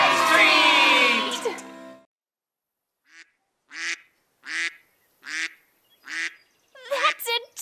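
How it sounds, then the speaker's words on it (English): An animated duck in a 3D nursery rhyme cartoon gives a string of clear, loud quacks in a steady rhythm after a burst of music, with more rapid quacking at the end. "That's a duck! I like ducks!"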